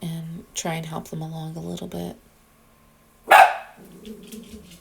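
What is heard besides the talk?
dog barking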